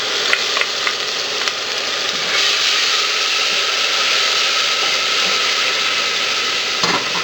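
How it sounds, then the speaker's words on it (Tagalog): Garlic and ginger sizzle steadily in hot cooking oil, a loud, close, continuous frying hiss with a few faint stirring knocks, no voices. "At kapag mainit na yung cooking oil, igigisa na natin yung usual, yung bawang,"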